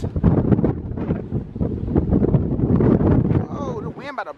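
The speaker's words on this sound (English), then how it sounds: "the wind about to blow me away" Strong wind buffets the open deck of the Carnival Sunshine cruise ship, a loud gusty rush battering the microphone in uneven surges, with a voice briefly audible near the end.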